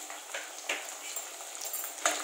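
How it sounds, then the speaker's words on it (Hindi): Pieces of suran (elephant foot yam) fry in oil in a pan, a faint continuous crackle and hiss with occasional small pops, steady and without speech. "अब इसको भी मैं इसी तरह फ्राई कर लूंगी।"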